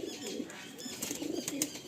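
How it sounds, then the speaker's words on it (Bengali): A male breeder Teddy Kamagar Kasuri pigeon coos softly nearby, a few low, rolling calls repeating against a quiet background. "দারুণ একটা কোয়ালিটি পায়রা।"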